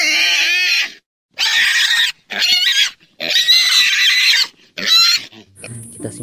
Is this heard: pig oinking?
yes